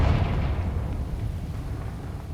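A Confringo blasting curse explodes in the video game Hogwarts Legacy, a loud booming blast with a heavy low rumble that decays slowly over a couple of seconds.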